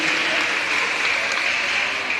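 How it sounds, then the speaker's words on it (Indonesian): Applause from a church congregation during an Easter Sunday gathering, a steady, dense clapping that fills the room at an even level from start to finish. "tepuk tangan buat Aldia ya."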